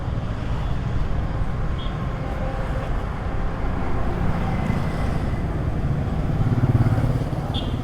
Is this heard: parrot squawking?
no